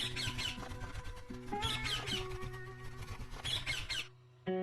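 Angry cartoon birds squawk in loud, harsh bursts over a busy animated soundtrack, with three dense clusters of shrill calls separated by brief lulls before a sudden tonal sting at the end.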